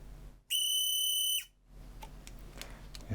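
A Eufy RoboVac 11 robot vacuum's roller brush motor gives a high, steady whistling squeal for about a second, then stops, leaving a low motor hum with faint clicks.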